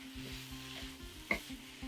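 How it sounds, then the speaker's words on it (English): Corn and beans being stirred in a cooking pot, with a soft spoon-scraping rhythm over a steady low sizzle and one sharper knock against the pot near the end; no voices. "Give everything a good stir."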